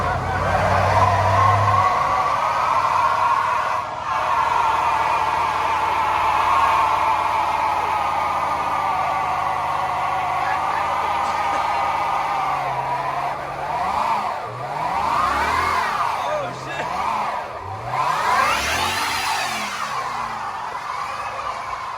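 A Toyota Supra A90 engine revs hard while its wheels spin at a car meet, with a sustained loud roar followed by repeated rising and falling revs near the end, and voices are heard faintly underneath.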